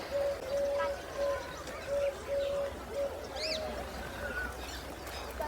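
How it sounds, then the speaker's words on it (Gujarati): Birds call on a foggy village morning: a repeated low dove-like coo sounds in short regular phrases, with a few sharper chirps rising above a soft background hum. "સરસ મજાની સવાર પડી ગઈ છે ને પક્ષીઓનો કલરવ પણ થઈ રહ્યો છે"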